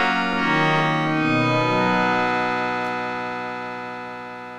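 An Entineering FM synthesizer with its feedback turned all the way up sustains a dense, buzzy tone with a shifting low pitch early on, then holds steady and slowly fades, heard alone.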